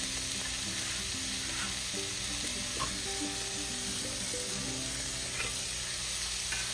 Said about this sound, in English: put your sausage into the pan, and we're going to start chopping it up